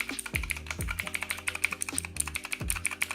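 Keys clack steadily on a new computer keyboard, a close, crisp run of rapid typing strokes with a few heavier thumps mixed in, heard alone without any talk.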